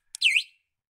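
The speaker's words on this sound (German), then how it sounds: "So, und dann ist die Alarmanlage an." A tiny click followed by a single short, high chirping beep from a Kabinenroller microcar's alarm system arming, bright and clear, then silence.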